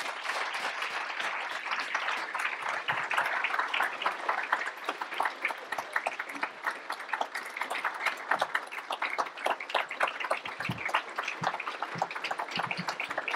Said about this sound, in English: I'd like to warm round of applause for Ambassador Eizenstat.